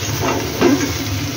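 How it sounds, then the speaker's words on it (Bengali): Fish with spices sautéing in a pan, a steady close hiss and sizzle throughout, swelling briefly partway through, with no talking. "এই মশলার সঙ্গে এই মাছটা আবার একটু কষিয়ে দেবো।"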